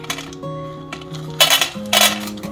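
Dry kibble from a scoop is dumped into a puppy's dish, giving two bright rattling bursts of pellets clinking against the bowl, with metallic ringing between them.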